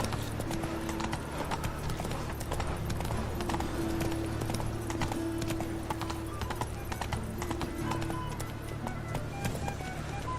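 Horse galloping in The Witcher 3, a continuous rapid clip-clop of hooves with a steady hum beneath, running at an even pace throughout.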